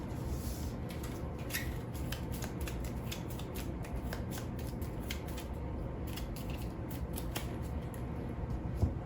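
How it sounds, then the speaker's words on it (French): Cards are shuffled during a game of the Heat racing board game, a continuous run of crisp riffling and flicking close by, steady and moderately quiet throughout. "On va mélanger les cartes légendes."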